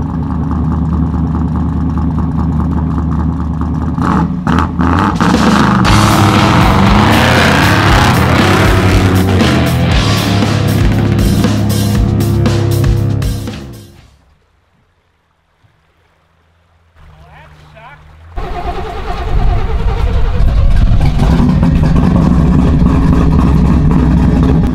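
An off-road vehicle's engine roars and revs hard while churning through mud and swamp water, cuts out into near silence for a few seconds, then loud engine and splashing noise return.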